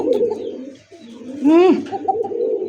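Giribaz pigeons kept for sale in Bangladesh coo in a low continuous drone, with one louder rising-and-falling call standing out midway, heard close up with no talking.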